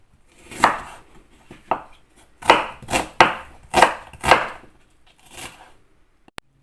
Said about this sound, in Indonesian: Saya potong